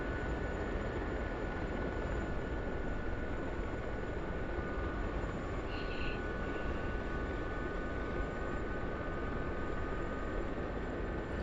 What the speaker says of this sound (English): I hear a jet somewhere.